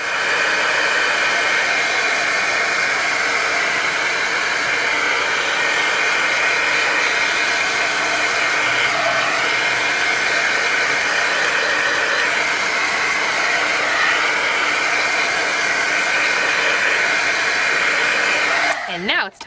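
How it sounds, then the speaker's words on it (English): Hair dryer blowing steadily on damp watercolor paper treated with rubber cement, a loud continuous whoosh that runs unbroken for nearly twenty seconds before cutting off abruptly at the end. "Actually, I'm gonna give this a quick drying out."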